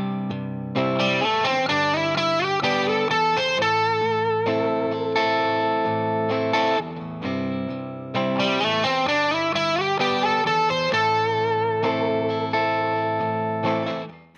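Electric guitar playing the lead lick from a song, a clean-toned melodic phrase with slides and chorus-like effect, played twice through, steady and close with no talking.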